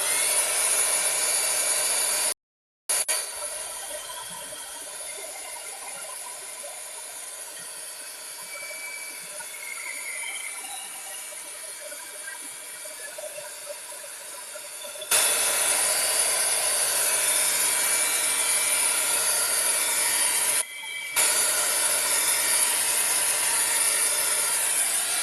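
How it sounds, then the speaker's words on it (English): A dryer blows continuously while a hidden bookcase with mahogany-colored details is being finished, a loud, rushing whine that drops out briefly twice and grows harsher partway through. "I got to turn on the dryer here."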